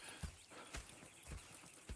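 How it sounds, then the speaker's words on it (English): Horses clip-clopping in the Red Dead Redemption 2 video game: faint hoofbeats landing at an uneven walking pace, about five hits over two seconds. "Go check the horses are ready."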